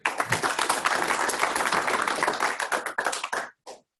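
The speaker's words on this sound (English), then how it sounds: "let's give him a round of applause and welcome him to Louisville" Audience at a Colorado OpenStack meetup in Louisville claps to welcome a speaker, a dense burst of hand claps close by that thins out and stops, with a final lone clap.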